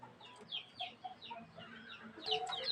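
Incubator-hatched chicks peep in quick, high, repeated chirps that overlap and grow busier toward the end, fairly close, with some soft clucking from a hen among them.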